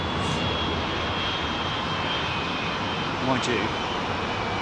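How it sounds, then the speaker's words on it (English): Rolls-Royce RB211 jet engines on aircraft departing London Heathrow runway 27R give a steady, broad roar that fills the whole stretch, with a brief spoken remark over it. "the lovely sound of Rolls-Royce RB211s"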